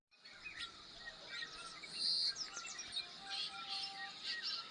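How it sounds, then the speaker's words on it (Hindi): A house sparrow chirps in a Himalayan mountain village in Uttarakhand, giving scattered bright tweets over soft insect buzz and quiet outdoor ambience, with no talking. "तो मित्रों ये है हमारी गौरैया है"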